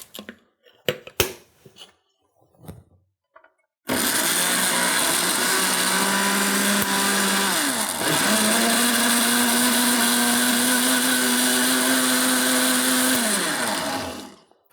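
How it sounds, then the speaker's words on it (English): A blender blending cucumber with water, starting abruptly after a few clicks and roaring steadily for about ten seconds with a brief pitch dip midway before spinning down. "And now we blend."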